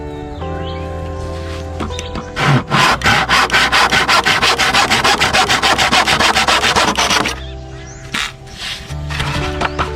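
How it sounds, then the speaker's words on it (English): A sharp handsaw rasps through dry wood in quick, regular back-and-forth strokes for several seconds, loud and close, with a steady hum before and after. "I've got a sharp saw"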